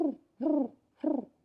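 A man imitates pigeon cooing with his voice, giving three low, hooting coos at an even rhythm, each close and clear, with short silences between them.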